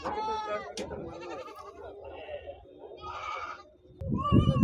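Sheep kept for meat bleat repeatedly at a busy livestock market, several high wavering calls rising one after another, with people talking and general crowd bustle around them.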